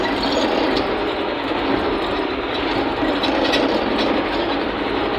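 A Niva SK-5M1 combine harvester drives along during a soybean harvest, its engine giving off a constant, loud, dense rumble and clatter with no pauses.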